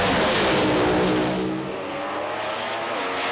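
Drag racing cars, Pro Stock class with nitrous and blower, racing to the finish line at an IHRA nationals event; a loud roaring engine burst that fades quickly as the cars pass.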